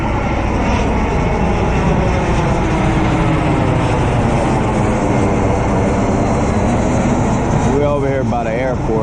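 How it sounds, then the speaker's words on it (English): An airplane near an airport beside a truck stop roars loudly and steadily with a broad engine drone, close and continuous throughout, with a voice speaking over it toward the end. "We're over here by the airport, so this truck stop here, you see planes all day and all night coming in."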